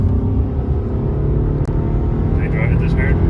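A car with a rebuilt boxer engine pushed hard, a loud, steady, low engine rumble throughout with one brief knock and faint higher whines near the end.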